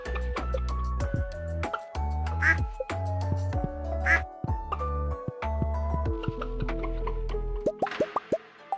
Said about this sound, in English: Hello, chickens and ducks.